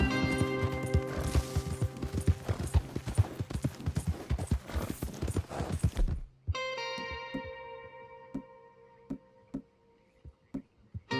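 Horses' hooves clip-clop in the video game Red Dead Redemption 2, a busy rapid clatter of several riders under music for about six seconds, then a sparser, slower set of hoofbeats against a quieter tonal backdrop.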